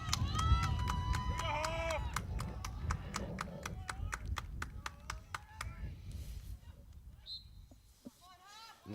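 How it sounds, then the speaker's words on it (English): The crowd at a varsity boys' lacrosse game between Haddonfield Memorial and Cherokee cheers and claps in rapid rhythmic unison, building toward a deciding face-off, with whistles and a commentator's voice over it, fading near the end. "Crowd getting fired up, knowing that this is probably going to be the deciding face-off."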